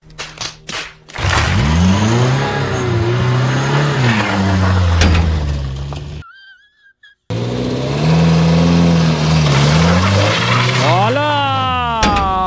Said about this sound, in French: On va faire des burns avec une 4L